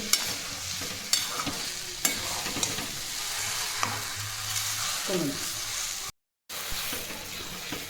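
Mango pieces for gulamba cook in a pan with a steady sizzle, broken by repeated scraping stirs of a spoon against the pan, close and clear with no talk, and a brief dropout near the end.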